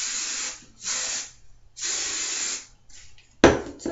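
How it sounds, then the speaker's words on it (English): Hairspray hisses onto hair in three sustained bursts, each lasting about half a second to a second, with short pauses between, followed by a brief clatter near the end. "make sure you hairspray a lot"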